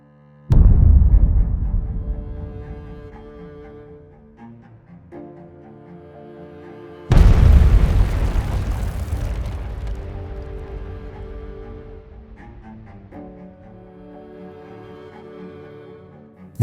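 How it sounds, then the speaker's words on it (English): A massive explosion from a drone strike on a temporary deployment area, a loud sudden boom with a long rumbling decay, followed by a second heavy blast and fading rumble, with no voices. "triggering a massive explosion."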